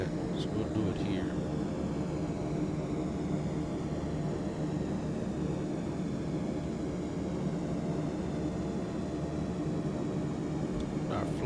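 Steady, loud turboprop drone from a MilViz King Air 350i in the Prepar3D flight simulator during an engine run-up, a constant broadband roar holding level throughout with faint voice-like murmur underneath.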